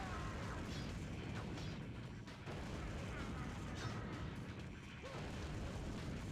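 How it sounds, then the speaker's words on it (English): Constant explosion sounds in the Blade II PS2 video game, a dense, unbroken rumble of blasts and booms running at full volume, with a voice talking over it. "the explosion sound going on at full volume at all times during this level"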